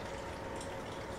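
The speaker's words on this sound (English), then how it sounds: "pouring the chicken broth in there. It's got an interesting stream going on." Chicken broth pours into a pot of soup in a home kitchen, giving a brief, continuous splashing liquid rush heard up close without pause.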